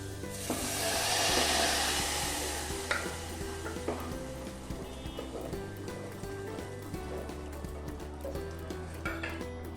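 Dal tipped into a hot tempering of fried curry leaves for methi dal sets off a loud, steady sizzle that slowly fades, with stirring scrapes and clinks running throughout.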